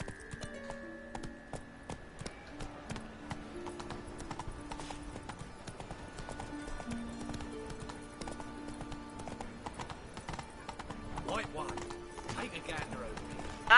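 Hooves of a galloping horse in The Witcher 3 video game clip-clop in a quick, continuous rhythm under in-game music, with someone talking intermittently over the sound.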